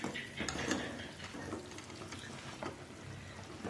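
Water bubbles at a rolling boil in a pot on the stove, ready for upma. The low, steady seething noise continues throughout with faint clinks.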